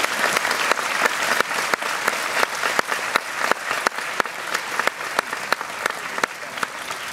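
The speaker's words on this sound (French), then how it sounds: "je m'associe au public ce soir pour vous adresser ces applaudissements hautement mérités" Sustained audience applause fills a hall at the opening ceremony of the 2016 Gérardmer film festival, dense overlapping clapping with sharp individual claps standing out, steady and lively throughout with no talk over it.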